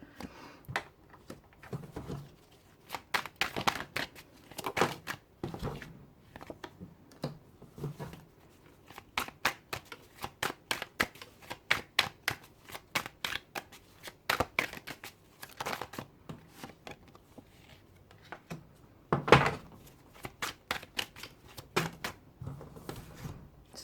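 Tarot cards being shuffled by hand, a run of sharp, close riffling snaps and flicks in irregular bursts with short pauses between them, fairly quiet and without talking.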